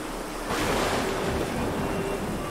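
Storm waves crash in a video game setting, a loud, close rushing surge that swells suddenly and then roars steadily with wind-like hiss and a low rumble.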